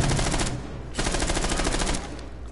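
Video game automatic gunfire rattles in fast, loud, continuous bursts, with one short pause before the shooting resumes.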